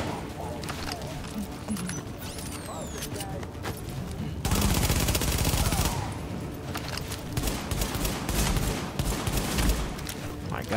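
Rapid gunfire in the shooter game The Division, bursts of automatic fire and overlapping shots crackling densely throughout, with a heavier, louder stretch in the middle and voices talking over it.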